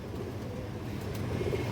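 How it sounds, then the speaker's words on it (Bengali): A female Surma khaki pigeon coos softly in the background, low and faint amid ambient room noise, with no voices. "একটা সুরমা খাকি মাদি কবুতর আছে 1 হাত সাইজের, এটা মাদি কবুতর সুরমা খাকি"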